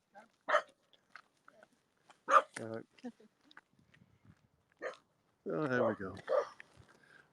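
A dog barks a few times outdoors during an evening walk at Grove Farm. The sharp barks come in short isolated bursts, moderately distant, between stretches of a man's nearby speech.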